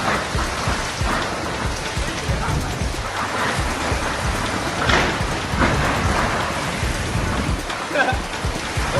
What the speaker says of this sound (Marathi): शहापूरमध्ये सोसाट्याच्या वाऱ्यासह तुफान पाऊस झाला।